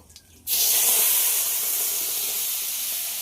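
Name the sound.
blended spice paste sizzling in hot oil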